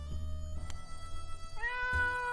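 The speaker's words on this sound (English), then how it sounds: "It sounds like it's the cat." A cat named Sharakov meowing in the video game 60 Seconds, with a short call early on followed by a longer, rising, clearly pitched meow near the end over a low rumbling background.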